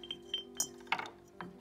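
A glass dome clinks lightly several times as it is handled, giving sparse, quiet ringing taps over a low background hum.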